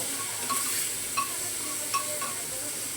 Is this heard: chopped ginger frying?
yes